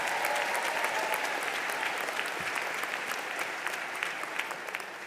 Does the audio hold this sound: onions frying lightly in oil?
no